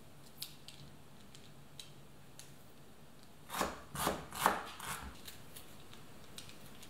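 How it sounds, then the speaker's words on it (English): Knife chopping ginger, garlic, onion and horseradish for an immune booster: a short close run of four or five crisp cuts in the middle of a quiet stretch, with faint isolated taps before and after. "now I'm going to cut up the ingredients and I'm going to use about the same amount of ginger, garlic, onion, and horseradish"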